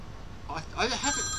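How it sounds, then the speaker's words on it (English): A telephone rings in a short warbling burst, moderately loud, over low background room noise. "Phone calls. I'll have to grab that in a second."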